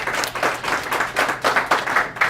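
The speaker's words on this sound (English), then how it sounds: "let's give her a round of applause." Audience applause at a senior care services talk, with bursts of clapping that swell and fade over a couple of seconds in a room.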